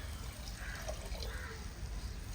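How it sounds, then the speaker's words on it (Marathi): Water is poured into a pan of rice with a soft, continuous trickle and splash, quiet and close, without talk. "त्यामध्ये आता मी पाणी घालत आहे"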